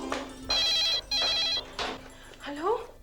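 A telephone rings in a domestic comedy TV scene: several loud, evenly spaced electronic bursts, followed by a brief voice near the end.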